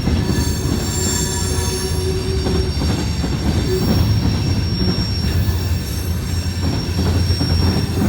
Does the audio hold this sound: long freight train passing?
yes